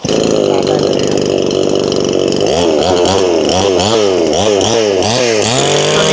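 A used gasoline chainsaw runs loudly and steadily, first at a high idle and then revving repeatedly in rhythmic surges, close to the listener with no talking.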